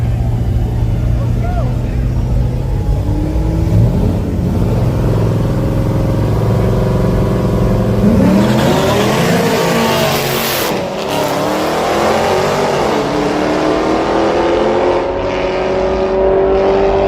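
Drag racing between a turbocharged Mustang and a Corvette: loud engines rev and accelerate hard, with a rising pitch as one car launches and passes close by, under a steady roar and crowd background.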